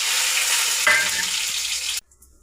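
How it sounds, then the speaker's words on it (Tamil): Cumin, cinnamon and dried chili sizzle steadily in hot oil, a bright continuous crackle with a brief stir partway through, then cutting off abruptly into near silence. "இப்போ அது நல்லா பொரியட்டும்"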